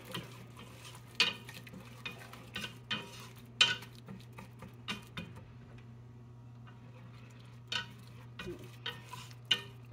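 A spoon stirs salt into blue crab soup stock in a pot, giving a series of light, irregular clinks and scrapes over a steady low hum, with no talking.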